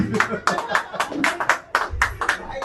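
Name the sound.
clapping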